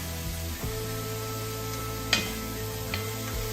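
Onions and carrots sizzling in a pan for beef bourguignon, a constant close frying hiss with a few light clicks of stirring, no voices.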